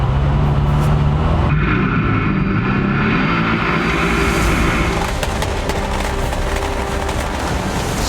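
Rally car launching hard off the start line at a rally event, its engine roaring loud and close with a rising, raspy surge and gravelly texture throughout.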